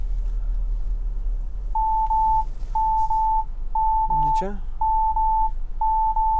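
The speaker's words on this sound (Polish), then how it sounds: "Jest informacja, jest ostrzeżenie, jest pikanie, jest również ostrzeżenie na zegarach." A Kia Proceed GT Line's rear cross-traffic alert beeps while reversing, repeated evenly spaced mid-pitched tones at a steady rhythm under a continuous low engine rumble, with one brief sharp squeak in the middle.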